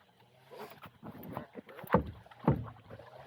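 A bent paddle strokes through the water from a small boat, with soft swishes building into two sharper dips and splashes near the end, close by and fairly quiet.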